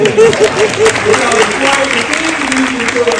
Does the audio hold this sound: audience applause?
yes